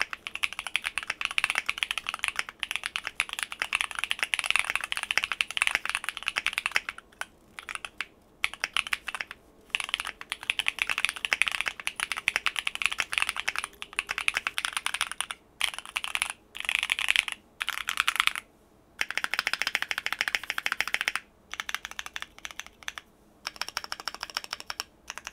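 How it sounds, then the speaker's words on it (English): Rapid clacky typing on a mechanical keyboard with tactile Gateron Baby Kangaroo switches, close and crisp, in bursts broken by short pauses. "the sound of whatever keyboard it is you're going to be using"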